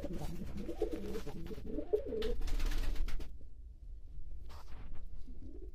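Breeding pigeons in a coop cooing close by, soft repeated low throaty coos over a steady background rumble, with someone speaking faintly at times.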